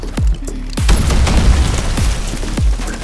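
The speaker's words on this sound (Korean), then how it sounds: "소형 유탄 같은 경우에는 원격 폭발도 가능한데 탄을 쏘고 장전할 때 폭발시킬 수가 있습니다." Remote-detonated mini grenade rounds fired from a modded revolver in Fallout 4 go off in a burst of several deep, heavy booms close together, one after another, with rumbling blast noise between them and no speech.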